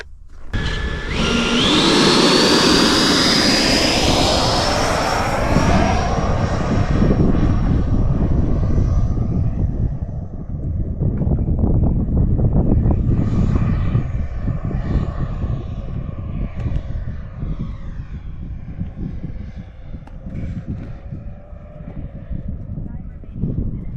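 Freewing MiG-29 RC jet model roaring past loudly with a rising turbine whine that fades as it climbs away, a steady rushing jet noise throughout while people talk nearby.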